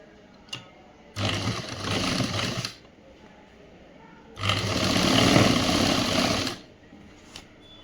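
A sewing machine stitches the side seam of a boys' school uniform shirt in two loud, steady whirring runs, the second longer, with short pauses and a few small clicks between.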